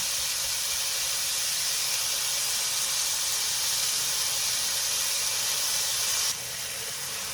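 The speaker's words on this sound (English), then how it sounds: "it has been about 8 minutes since I've been stir frying it like that" Steady, loud sizzling hiss of chicken stir-frying in a hot pan, continuous and even, dropping a little in level near the end.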